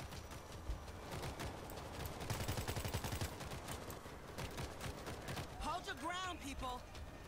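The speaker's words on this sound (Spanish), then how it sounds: "estoy con la ametralladora fija" A mounted machine gun in the World War Z video game fires in rapid bursts, mixed with other game noise and muffled effects, while voices are faintly heard at the end.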